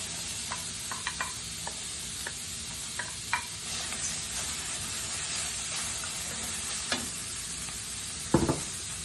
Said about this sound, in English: For the stuffing, we're going to dry saute onions